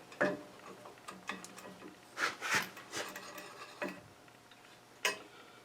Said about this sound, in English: I can take my clamp, put it right here